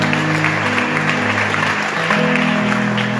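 A church congregation claps together in a dense, sustained round of applause, steady and fairly loud, with a low hum of voices and tones mixed underneath.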